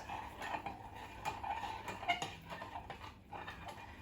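Soft clinking and scraping of a utensil against a pot, repeated in an uneven rhythm, fairly quiet and close, with no voices.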